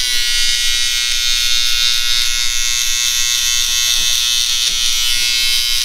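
A bladeless electric trimmer takes hair down close to the skin during a buzz cut. It gives a steady, loud, close-up motor buzz for the whole stretch, with no talking.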